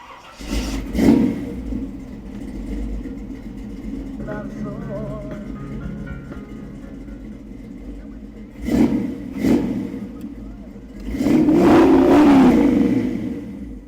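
A 1956 Chevy Sedan Delivery engine runs close by, idling with a steady rumble and then revving in several short bursts before a longer, louder rev near the end.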